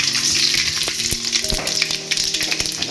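Spices temper in hot oil for torani kanji, a loud continuous close sizzle and crackle with scattered pops and occasional stirring scrapes.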